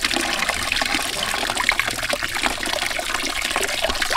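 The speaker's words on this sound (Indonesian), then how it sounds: "Cuci dulu agar getahnya hilang." Aloe vera leaves rinsed under a running tap to wash off the sap, giving a steady, close splashing water sound throughout with no talking.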